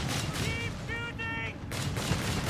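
Machine gun fire in Company of Heroes 3 crackles in dense bursts amid battlefield noise, with a brief lull midway before the firing resumes loudly.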